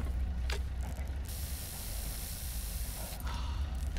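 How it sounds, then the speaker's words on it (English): Fart spray in the video game Volcanoids gives a steady, close hiss that fills most of the short stretch, with faint game noises around it. "Okay, a bit of fart spray."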